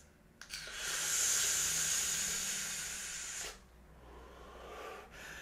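An electronic cigarette with a rebuildable RBA coil, fitted with a 0.3 ohm resistance, gives a steady, close, breathy hiss for about three seconds, then stops, followed by a fainter hiss; no talking.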